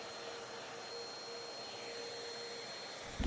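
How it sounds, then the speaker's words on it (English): A household vacuum cleaner runs steadily indoors, sucking up loose silver leaf flakes while a piece of furniture is being refinished, a loud continuous broadband whoosh with a faint whine, ending in a short bump. "I used my vacuum to suck up the excess silver leafing again"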